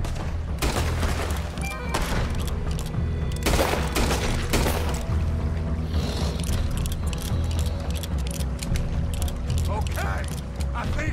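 Gunfire in the video game Red Dead Redemption 2, a scattered volley of sharp shots over a steady mechanical rumble and clatter, with voices talking underneath.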